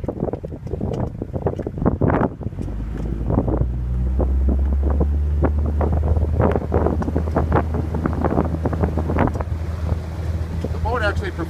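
A 2000 Bennington 22-foot pontoon boat with a 25 horsepower outboard motor runs steadily on the water, a low continuous drone under strong wind buffeting the microphone, with a few bursts of speech near the start.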